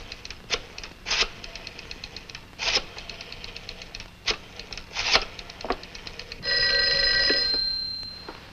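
An old telephone bell rings in repeated sharp bursts with brief pauses, the last ring longer and steadier, in a 1949 film-noir crime drama; no one talks over it.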